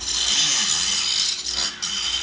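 Equine dentist rasping a horse's incisors, a harsh continuous high filing grind that runs steadily, briefly dips near the end, then resumes.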